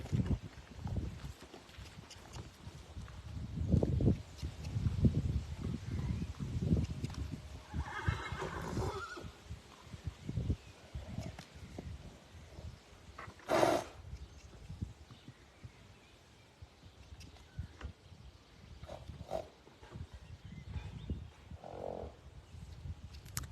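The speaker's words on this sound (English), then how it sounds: "So we've got a bit of snorting," Young excitable horse being handled, with repeated neighs and whinnies, snorts and occasional hoof clops, fairly near, among outdoor ambience.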